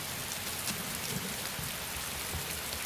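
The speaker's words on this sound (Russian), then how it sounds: "Нужно где-то переждать дождь." Steady rain falls and patters on surfaces throughout, a soft, even hiss of drops at moderate distance with no voices.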